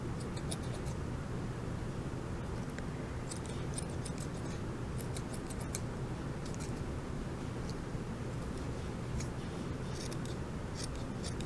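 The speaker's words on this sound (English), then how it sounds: "I'm going to use my scissors. I'm just going to trim off a little bit" Repeated small snips of scissors trimming yarn, quick clicks scattered over a steady background hiss, close to the listener.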